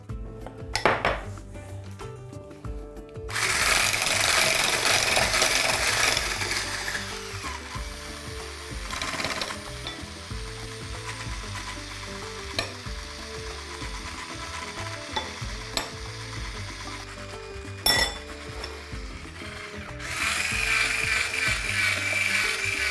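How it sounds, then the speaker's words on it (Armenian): A flour and starch mixture being stirred into egg yolks in a bowl for lemon cream, steady scraping and clinking of a utensil against the bowl, close and continuous with a few louder knocks, no voice. "Քիչ-քիչ ավելացնում ենք և հարում։"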